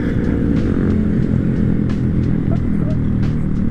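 Honda Grom motorcycles ride together in a group, small engines buzzing and revving loudly and steadily up close with wind noise.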